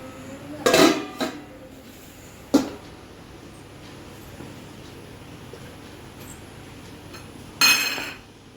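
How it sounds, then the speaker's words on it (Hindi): A kadhai is set on the stove for frying pakoras, giving a few separate metallic clanks and clinks, one loud pair near the start, a short knock midway and another clatter at the end, over a low steady background hum. "तो हमने पकोड़े की कढ़ाई चढ़ा दी है"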